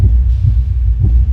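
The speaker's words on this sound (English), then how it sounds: "after a couple seconds you'll start hearing your heartbeat playing in the vicinity" A heartbeat picked up by a touch sensor and played back through an interactive art exhibit in Miami, loud deep thumps pulsing in a steady rhythm.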